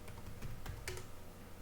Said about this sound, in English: So just flip open your browser and there you can type in download Google Chrome.